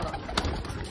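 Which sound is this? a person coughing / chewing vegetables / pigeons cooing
pigeons cooing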